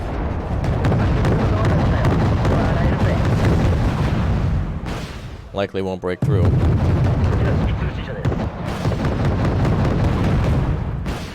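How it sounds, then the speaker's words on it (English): In the Wargame: Red Dragon video game, ships come under attack amid dense, continuous rumbling explosions and artillery booms at high volume, briefly broken by a warbling tone, while a voice speaks over the barrage. "let's target these ships so we can try to damage them with a mutual explosion"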